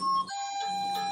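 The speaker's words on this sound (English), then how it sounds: "Sorry about that. That was my phone." A mobile phone alert rings out as a short electronic chime of steady, bright tones, fairly close and clear, with no talking over it.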